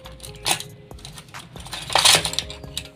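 Kitchen utensils, including knives, scissors and spoons, clink and rattle together as they are handled, giving bright metallic jingles, one near the start and a louder jangling burst later, close by with no talk.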